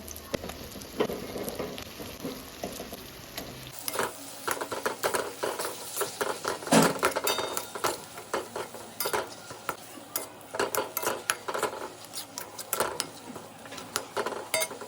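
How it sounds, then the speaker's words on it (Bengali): Boiled potatoes stirred into spice masala in a pan on a home stove, with a steady scrape and clatter of the spoon against metal, soft sizzling underneath, close up and unhurried, no talk. "মশলার ভিতরে আলুগুলো দিয়ে দেব।"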